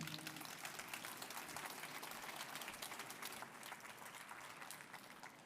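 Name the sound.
audience applause for a speaker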